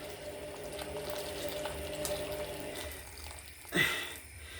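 Water runs from a tap over apples in a pan, a faint steady trickling stream close by, then a sharp clunk near the end.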